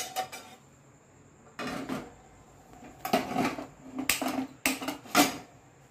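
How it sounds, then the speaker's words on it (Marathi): A kadai (wok) is set onto a gas stove, with several short bursts of metallic clatter and scraping separated by quiet pauses. "आता इथे गॅसवर आपण कढई चढवून घेणार आहोत।"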